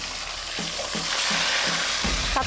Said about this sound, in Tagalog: Ang unang step ay pipirito po natin ang ating biya.